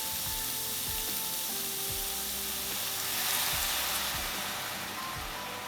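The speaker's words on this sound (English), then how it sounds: "we're going to mix these ingredients so that the bottom doesn't get burnt" A pan of salmon and mushroom fettuccine with basil, black pepper and table cream sizzles steadily while being stirred, a continuous close frying hiss with soft scraping underneath.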